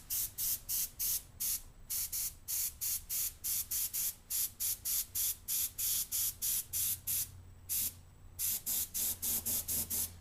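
Airbrush spraying a color mixture onto paper for a portrait, heard as a steady run of short, sharp hissing bursts, each a second or less, with brief gaps and a few longer pauses between them.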